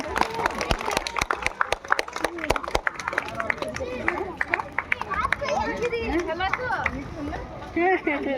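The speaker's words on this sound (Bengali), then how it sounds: "গ্রুপ বি তে ফার্স্ট হয়েছে ঐশিক সেনগুপ্ত। এবার জোরে হাততালি।" Children clap loudly at a sit-and-draw competition prize giving, a burst of sharp, rapid claps in the first few seconds that gives way to excited children's chatter and shouting nearby.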